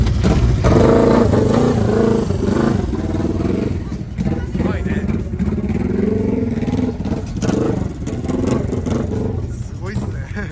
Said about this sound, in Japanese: アイドリングが低い。